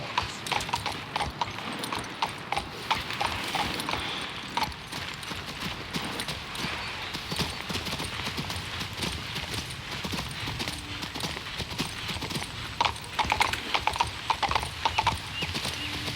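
Horse hooves clip-clop in a steady trotting rhythm for the whole stretch, close and continuous, with occasional faint snorts and game-like background ambience, from the video game King's Bounty II.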